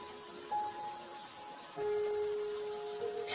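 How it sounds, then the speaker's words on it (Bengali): Light drizzle patters steadily in a quiet village setting, a soft continuous hiss of fine raindrops with faint tonal hum in the background and no voices. "সকাল থেকে টিপটিপ বৃষ্টি পড়েই চলেছে।"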